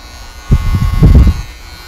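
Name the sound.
Syska HT4000K precision trimmer cutting men's hair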